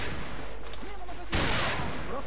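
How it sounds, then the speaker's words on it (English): Gunfire from a powerful gun in the online shooter game AVA: one loud, sharp burst partway through, set against steady, busy game noise. "That sounded like a pretty powerful gun."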